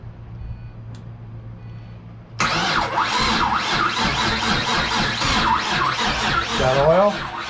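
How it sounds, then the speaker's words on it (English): A 2006 GTO's LS2 stroker engine cranks and catches after a brief quiet stretch with faint hum, then roars into a loud, rough idle with revving that continues to the end. "See if it cranks over."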